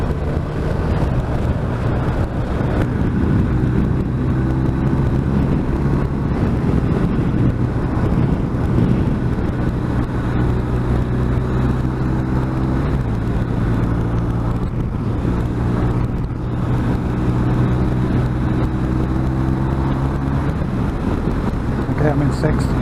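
A BMW R 1250 RT touring motorcycle on the road, its steady engine drone buried in heavy, constant wind rush across the microphone, loud and unbroken throughout.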